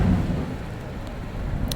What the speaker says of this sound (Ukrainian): Дощик пішов знову.